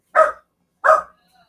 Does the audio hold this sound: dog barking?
yes